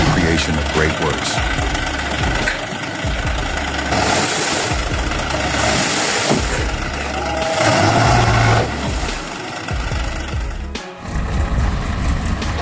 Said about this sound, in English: giant trucks roar, carrying on their backs dunes of golden sand